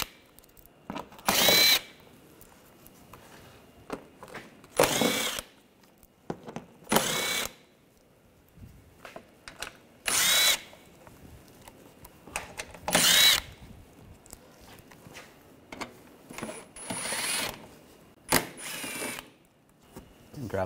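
Power tool with an 8mm socket backing out panel screws on a 2009-2013 BMW 328i xDrive 3.0L inline-six, in six or seven separate short bursts spaced a few seconds apart, close and loud, with quieter clicks and handling noises between.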